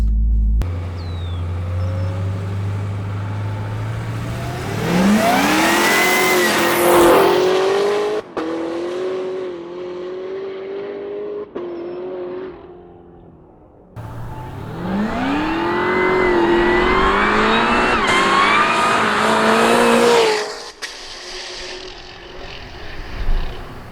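A 1,100 wheel-horsepower Cadillac CTS-V3 launches hard twice, its loud engine climbing steeply through the gears while the tires spin, with a quieter lull between the two runs.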